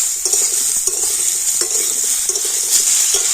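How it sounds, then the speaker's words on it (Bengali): Potatoes, ridge gourd and green chilies are stirred in a hot frying pan, giving a steady, close sizzle broken by repeated scraping strokes of the spoon. "আমি সমস্ত একটু ভালো করে এইভাবে নাড়াচাড়া করে নেব"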